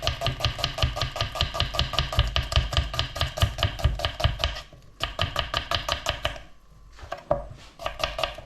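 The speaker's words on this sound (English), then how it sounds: "Just going to slice this onion." A big knife slices an onion on a board in quick, even chops close by, a rapid run of sharp knocks that pauses briefly near the middle, then resumes with a few scattered cuts.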